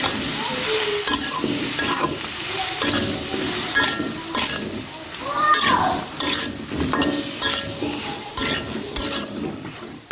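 Vegetables sautéed with ground spices for a sour curry in a pan after frying fish, loud steady sizzling with busy scraping and clattering strokes of a utensil against the metal.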